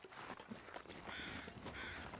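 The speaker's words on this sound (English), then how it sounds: "I don't know what these birds are going on about" Crows caw in The Long Dark video game, a few harsh calls sounding faint and distant over a rough, noisy outdoor background.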